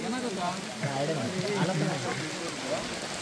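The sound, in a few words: heavy rain falling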